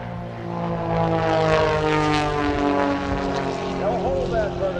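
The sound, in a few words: propeller bombers diving at full throttle at an air show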